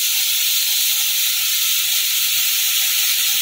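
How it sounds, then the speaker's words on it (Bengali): Constant hissing sizzle of potato, pointed gourd and onion frying in oil, even and unbroken throughout, with no voices. "আবারও ভালো করে নেড়ে চেড়ে একটু ভাজতে থাকবো"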